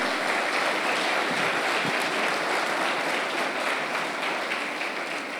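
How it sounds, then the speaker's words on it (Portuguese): A church congregation applauds in praise of Jesus, a dense, steady wash of many hands clapping at once that fills the room without pause and carries on loudly for several seconds. "Dá um forte aplauso glorificando a Jesus."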